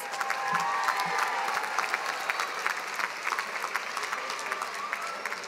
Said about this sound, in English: Let's give a round of applause to the Master of Planning graduates.